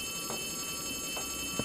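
In Poppy Playtime Chapter 3, a telephone rings with a steady electronic tone, close and moderately loud, with no voices over it.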